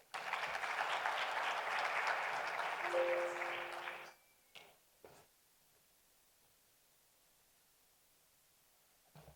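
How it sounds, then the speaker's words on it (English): Audience applause at the Global Expo Botswana forum, a dense crowd clapping loudly and steadily for about four seconds before cutting off abruptly, followed by a few faint thumps and near silence. "A round of applause."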